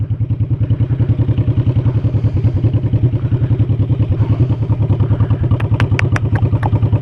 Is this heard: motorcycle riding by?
yes